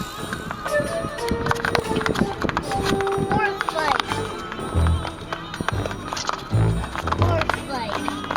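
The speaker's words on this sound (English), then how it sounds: "these horses chose to fight each other in a parking lot" Horses fight in a parking lot, with hooves clattering and scuffling on pavement, thuds, and a few whinnies, loud and chaotic amid background noise.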